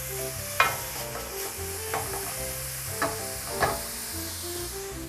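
Ground veal frying in a pan for rice balls, a steady sizzle broken by several distinct scraping stirs of a spoon, close and clear with no talking.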